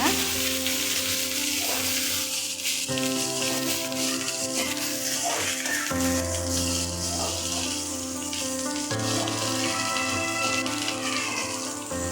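Onion, curry leaves, green chilli and garlic fry in oil for upma, a loud, steady sizzle with occasional stirring scrapes and no talk.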